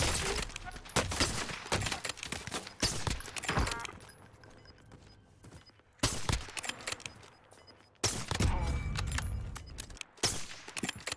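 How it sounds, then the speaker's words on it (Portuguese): Rapid bursts of video game gunfire crack out in several clusters, loud sharp shots with short gaps, partly under a player's speech. "Tem uma lenda atirando aqui nas minhas costas."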